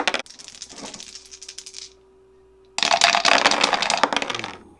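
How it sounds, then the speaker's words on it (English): Dice tumble out of a dice tower onto a table in two rattling, clattering bursts of rapid hard clicks, close and loud, with a short quiet gap between them. "you can see there kind of the force of this dice coming out, the sound"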